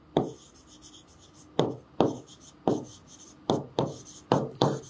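Pen or chalk strokes during a math lesson, tapping and scratching in short bursts about every half second, close and fairly loud with no talk.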